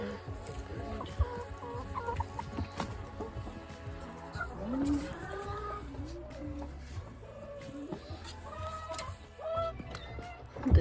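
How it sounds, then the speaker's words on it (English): Backyard chickens clucking and murmuring in short, scattered calls close by, a steady low rumble of the coop setting underneath and a louder squawk near the end. "This chicken here, cleaning itself with the dirt."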